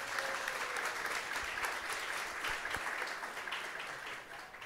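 A church congregation applauds during a sermon, with a sustained crowd of hands clapping evenly at moderate volume and easing slightly toward the end.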